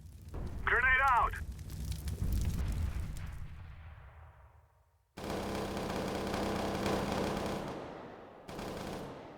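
A grenade and a molotov fire are thrown in CS:GO: a sharp pin-and-throw chirp and a loud burst, then a roaring crackle of flames that cuts off, resumes and fades, all fairly quiet in level.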